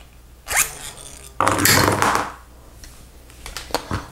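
A Lego Chima ripcord toy: a sharp ratcheting zip as the cord is yanked out, then a longer whirring rush as the part spins, fading with a few light clicks and rattles afterward.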